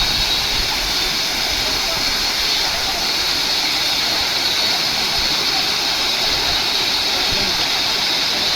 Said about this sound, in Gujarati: પાણીનો ફુવારો એમ બોલે હો પણ